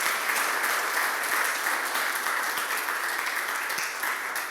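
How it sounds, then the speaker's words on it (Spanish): A church congregation bursts into loud, sustained applause of praise, a dense wash of clapping that holds steady for several seconds before easing slightly at the end. "¿Cuántos alaban al Señor y le dan un fuerte aplauso de alabanza?"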